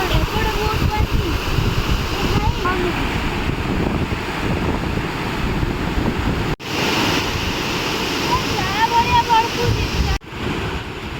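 Flood water surges past a village house in a steady, loud, unbroken roar with broadband churning, briefly cut twice; faint voices may sit beneath the rush.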